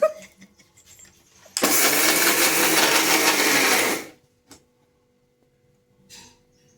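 Mixer grinder whirring loud and steady for about two and a half seconds while blending cold coffee with milk and ice cubes, then cutting off abruptly, with faint household sounds before and after.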